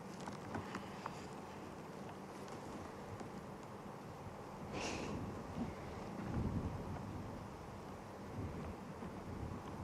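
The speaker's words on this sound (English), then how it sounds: "It's just that little bit too windy." Steady wind buffets the microphone in a low rumbling roar, swelling in gusts midway through, at sunset in the Sabi Sand reserve, South Africa.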